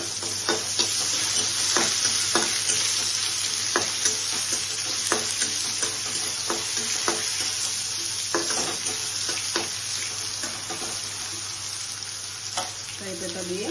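Curry leaves sizzle in hot oil for a Bengali cholar dal tadka, a steady loud frying hiss with repeated stirring clicks and scrapes throughout, no talking.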